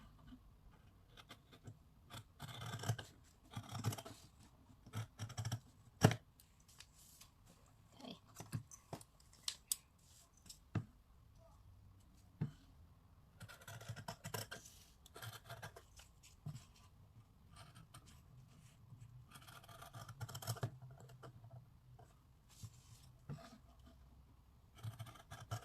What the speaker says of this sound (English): just take the scissors and start cutting like earlier.